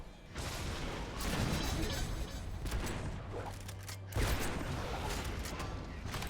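Wide-spreading gunshots go off in the fantasy video game Orcs Must Die! Unchained, with a couple of sharp, loud bursts over a busy background of in-game clatter and effects.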